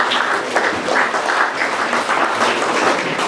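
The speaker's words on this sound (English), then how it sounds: "Can we each give all of the retained players a round of applause?" At a school player draft event at St Charles College, an audience applauds the retained players with sustained, full crowd clapping at an even level throughout.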